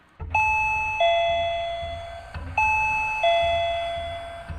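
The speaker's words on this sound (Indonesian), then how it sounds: "Teriak Arini sambil membunyikan bel tamu setelah menunggu beberapa lama." An electronic bungalow doorbell chimes twice, each a clear ding-dong tone pattern ringing out and fading, with faint background noise between.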